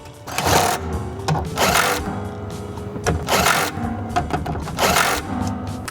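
Bolts being driven back into the cover of an in-tank fuel pump on a car, giving a repeated mechanical whirring or clicking in four bursts of roughly even rhythm, close and fairly loud with no talking.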